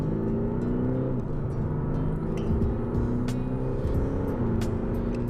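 Audi A6 Competition with a 326 hp engine, heard from inside, pulling hard under acceleration: a steady, loud low engine drone that rises in pitch, with no talk over it.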